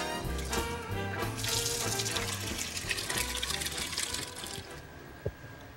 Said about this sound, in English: I'm just going to put a bit of water into the pot